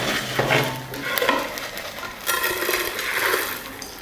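Garlic and masala sauté in a pan for a crushed spicy fish fry, giving a loud close sizzle with scraping stirs and a few clinks of the utensil against the pan.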